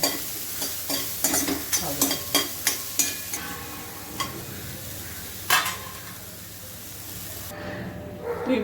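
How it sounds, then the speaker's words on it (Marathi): Onion frying lightly in a pan until soft, for a fenugreek (methi) bhaji, gives a steady close sizzle. Sharp scraping and clicking stirs repeat through the first half, then the sizzle carries on more quietly alone. "म्हणून मी आता हा फक्त हलका कांदा भाजून घेणार आहे, हलकासा नरम होईपर्यंत"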